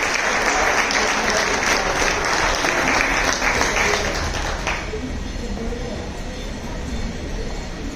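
Loud, dense applause from the audience at a Marathi book launch, honouring the artist who designed the cover, sustained for about five seconds and then dropping to a softer crowd murmur.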